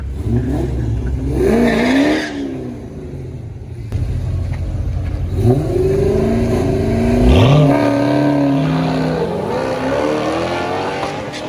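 Ford Mustang launching at a nighttime drag strip in hot weather with launch control, engine revs rising in sharp pitch sweeps, a brief lull, then another hard, loud acceleration pulling away.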